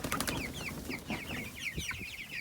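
Cornish chicks clucking and peeping on a farm in the morning, a busy flock of overlapping chirps and soft clucks close by, steady throughout with no talk.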